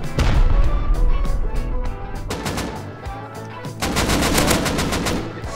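Rapid gunfire from automatic weapons in the survival video game Rust during a tournament match, loud bursts in quick succession with short pauses between volleys.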